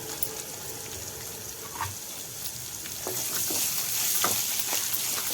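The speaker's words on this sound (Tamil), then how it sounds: "அளவுக்கு வெங்காயம் நல்லா வதைக்கிறோம்" Onions sautéing in a pan for paniyaram, a soft sizzle with occasional stirring scrapes that grows a little louder and denser toward the end, heard alone.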